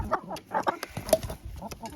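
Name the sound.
chickens clucking in the chicken coop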